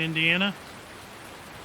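Heavy rain falls steadily in a farming game set in Griffin, Indiana, a constant even hiss of downpour that continues alone after a short spoken word at the start.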